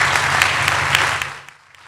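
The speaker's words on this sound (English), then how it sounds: "Start with a round of applause for all of these wonderful students that are here" Loud, dense applause from an audience honoring students at a district startup showcase, steady clapping that thins and fades out near the end.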